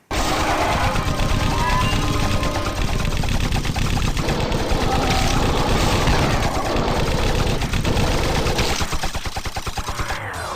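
Automated turrets fire in the video game Xombie: Dead on Arrival, dense rapid gunfire rattling nonstop and loud throughout, layered with other game sound effects.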